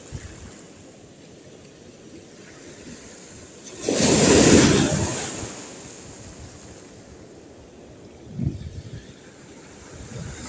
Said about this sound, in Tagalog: Full laki ng alon.